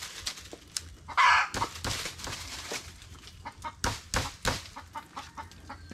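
A hen clucks near newly hatched chicks, with a louder squawk early on and a run of short irregular clucks and peeps, close and clear over quiet background.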